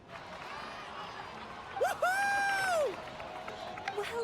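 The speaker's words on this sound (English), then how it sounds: "Let's give a huge round of applause to our brave young warrior, Kachina!" A video game cutscene crowd cheers and applauds for about a second, with a whoop-like voice rising over the noise, set against quieter background speech.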